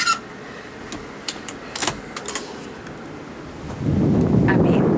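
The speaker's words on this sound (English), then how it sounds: "that's blowing through here when I open this door." Wind pushes through an opened door, swelling into a steady, loud whoosh near the end after a few clicks and rattles from the door itself.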